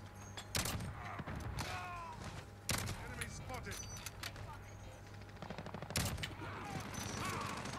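Sharp, heavy AX50 sniper rifle shots from Modern Warfare ring out about three times at spaced intervals, loud and close, over a steady hum and scattered game noise, with a voice talking in the background.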